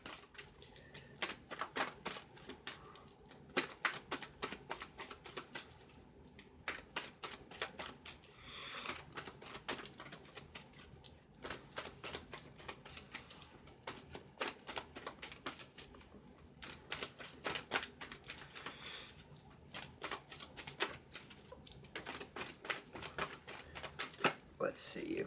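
Angel cards being shuffled by hand during a reading, a steady soft patter of riffling and flicking card sounds continuing throughout.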